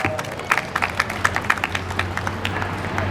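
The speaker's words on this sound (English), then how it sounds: "Big round of applause." Audience applause at a Republic Day 2025 event, a group clapping in a loose, fairly quick rhythm with some sharper claps up close, over a steady low hum in the room.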